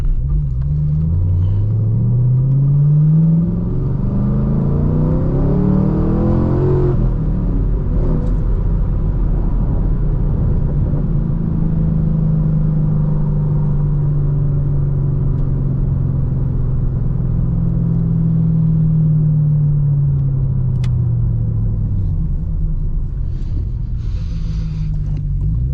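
Chevrolet Camaro SS V8 rumbling steadily from inside the car while driving, with engine tone rising and falling through gear changes and a low continuous drone throughout, no talking.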